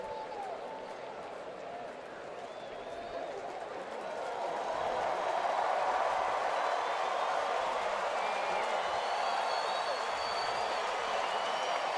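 Baseball stadium crowd at a night game cheering, a steady broad roar that swells louder partway through and holds, with a commentator's voice faintly over it.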